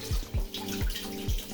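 Water runs from a kitchen tap into a sink during dishwashing, a steady near splash with a few rhythmic low thumps and no voices.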